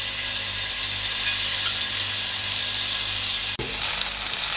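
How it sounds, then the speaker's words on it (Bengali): Pieces of meat fry in a pan as an early step of a homemade pasta recipe, giving a steady, close hiss of sizzling oil with no talk and one brief knock near the end. "মাংসগুলো প্রথমে ভেজে উঠিয়ে নেব"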